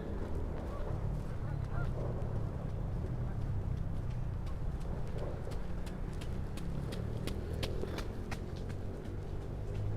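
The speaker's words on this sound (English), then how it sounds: "lots more birds in the water" Geese honk repeatedly from the water in New York's Central Park, sharp calls rising over a steady low city rumble with some clip-clop in the background.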